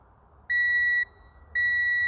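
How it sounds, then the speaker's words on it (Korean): Two loud, steady electronic alarm beeps from a brake fluid moisture tester reading about 2.5 to 3% water, each about half a second long, close up against a quiet background. "지금 삐삐거리고 경보음 울리죠."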